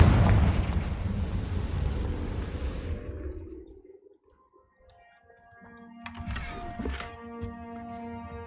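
A Confringo blasting spell from the video game Hogwarts Legacy detonates in a loud, booming burst that fades over about three seconds, followed by quieter chiming magical effects; no one talks.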